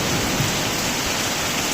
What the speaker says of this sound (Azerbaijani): yay yağışı yağır